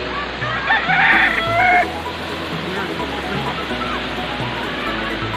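Chickens and chicks cluck and cheep nearby near a beach, with a louder burst of clucking early on over steady outdoor background noise while a person talks.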